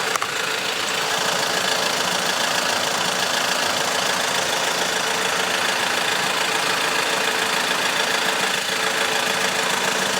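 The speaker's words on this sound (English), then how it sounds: "That's why it's very important to keep the engine running." An Audi car engine with a CVT automatic transmission idles steadily at close range during a transmission oil change, a constant low rumble with faint knocking and no voices.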